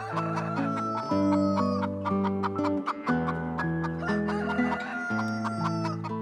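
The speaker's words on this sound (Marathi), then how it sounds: "कोंबड्यांची दाणे टिपताना होणारा कलकलाट" Chickens cluck and squawk close by in overlapping bursts while pecking grain on a farm, with a rooster-like call among them, busy and continuous with no people talking.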